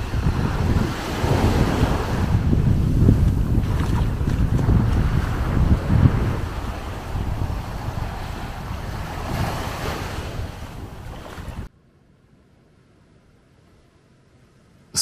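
Ocean surf rolls onto a beach at Haleiwa on Oahu's North Shore, a loud, steady wash of waves mixed with heavy wind buffeting, ending abruptly in near silence.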